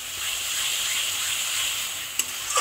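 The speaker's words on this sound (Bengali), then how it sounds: "ভালো করে করে মশলাটাকে কষিয়ে নিতে হবে" Spice paste with Kashmiri red chilli powder for egg curry sautés in a pan, giving a steady, soft sizzle and hiss, with a couple of sharp utensil clicks near the end.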